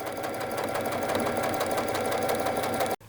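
Sewing machine running a straight stitch on fabric, a loud steady mechanical whir with rapid rhythmic needle clatter, stopping abruptly near the end.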